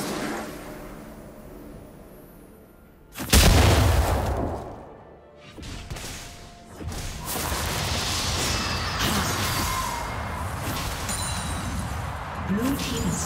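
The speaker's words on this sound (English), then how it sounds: "Red Team's turret has been destroyed." A turret collapsing in League of Legends, heard as a sudden loud crashing boom that swells and then trails into a dense wash of game effects and rumble.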